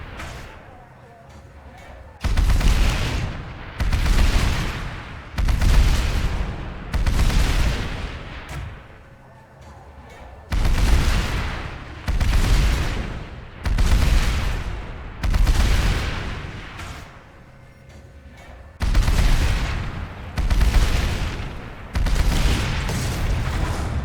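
Siegebreaker rockets fired from a Sunderer in a video game, loud booming volleys arriving in rapid clusters of three or four, each cluster separated by a short lull, repeating throughout.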